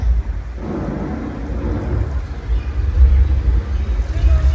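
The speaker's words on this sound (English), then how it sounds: "We can cue the rain by using sprinklers." Steady heavy rain from studio sprinklers pours down with a low, continuous rumble of thunder beneath it, loud and enveloping throughout, a practical effect on a Universal Studios tour.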